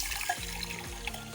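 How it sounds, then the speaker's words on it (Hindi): Water pours and splashes into a small pan holding sugar, a short steady trickle close by with no talking. "अब इसमें पानी डाल देंगे।"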